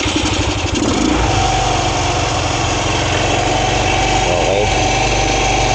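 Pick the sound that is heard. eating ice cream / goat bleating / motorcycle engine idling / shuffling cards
motorcycle engine idling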